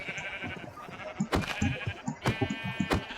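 A sheep in Minecraft bleats a couple of times, close and clear, over a faint background of soft clicks and shuffling.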